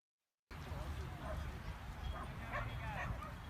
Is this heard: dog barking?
yes